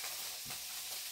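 Food being stirred in a hot wok with chopped tomatoes and red wine paste, giving a short, soft scrape and a low sizzle under a steady hiss, close by, with no one talking.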